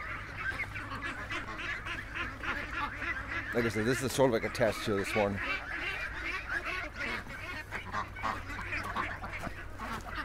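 Ducks and geese honk and quack in a loud flurry near the middle, with more calls scattered across the rest, while someone talks over the birds.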